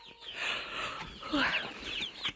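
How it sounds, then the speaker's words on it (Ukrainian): A hen squawking in a poultry enclosure, loud agitated clucks and shrieks close by, repeated in bursts with other fowl and a faint voice in the background. "Курка верещить."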